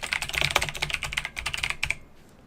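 Rapid close clicking of computer keyboard keys while text is written into a Word document, a dense burst of keystrokes that stops abruptly, leaving near silence.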